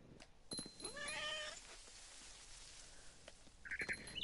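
A cat meows in the video game What Remains of Edith Finch, a rising, drawn-out cry followed by a shorter, higher mew a few seconds later, close and clear over a quiet background.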